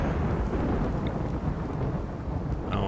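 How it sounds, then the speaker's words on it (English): A rainy thunderstorm in the video game Rimworld, with a steady, loud wash of rain and a deep thunder rumble running throughout, with no voices. "Rainy thunderstorms."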